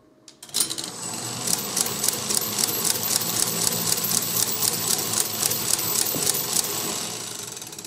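A Caille coin-operated roulette machine spins its wheel and throws out balls, making a rapid, even mechanical clatter that starts abruptly and runs loud and steady for several seconds before easing off.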